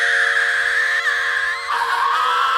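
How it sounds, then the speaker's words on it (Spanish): Strange, high-pitched screams from a singer: one loud, continuous, tonal wail with no pauses, its pitch bending and dropping partway through. "dando clases súper peculiares, raras y con gritos extraños"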